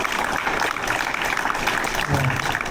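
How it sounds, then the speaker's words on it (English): Standing ovation from an audience after a talk, a steady dense wash of clapping filling the room throughout. "thank you for the standing round of applause"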